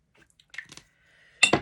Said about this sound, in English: gonna have to mix together some more lavender water